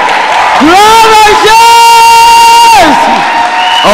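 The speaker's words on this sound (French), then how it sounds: "On acclame, on acclame, on acclame." A church congregation loudly cheers and acclaims with a sustained, drawn-out vocal shout that rises, holds for about two seconds and falls, backed by crowd noise.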